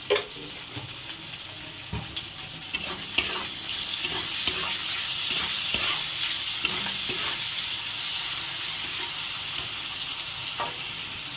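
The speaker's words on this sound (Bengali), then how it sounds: "পেঁয়াজ টমেটো ভাজা হয়ে গেছে" Onion and tomato with salt fry in a pan, giving a steady close sizzle broken by scraping stirring strokes throughout, with no talking.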